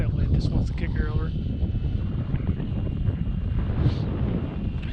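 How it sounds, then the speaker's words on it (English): Cold wind buffeting a microphone outdoors at a model airfield, a steady low rumbling roar with gusty swells throughout, and a faint model plane motor whine briefly rising over it. "That wind just wants to kick her over."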